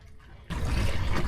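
A sailboat under sail on a beam reach near Plymouth with its engine off, wind around 10 knots and speed near 3 knots. After a quiet half-second, a loud, steady wash of rushing water and wind comes in and carries on.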